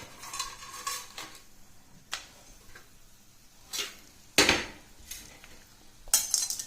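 A utensil scrapes and clinks against a pan in irregular strokes as cinnamon, cloves and star anise roast, with a few sharper knocks.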